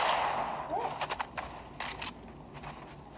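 Launcher weapon fire and explosions in the Fortnite video game, a cluster of sharp bursts in quick succession around the middle, moderately loud over game background ambience.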